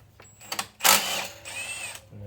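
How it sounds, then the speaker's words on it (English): An impact wrench zips off a bolt on the tensioner of a BMW N47 328d diesel, with short bursts and one loud rattling hammering run up close, then a softer whir as it spins down. "So I'll grab my impact and take that off."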